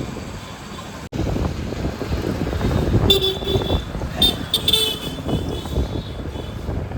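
Busy traffic of two-wheelers in an old Bhavnagar market street, with an engine drone throughout and a few short horn toots breaking through in the middle, near and fairly loud.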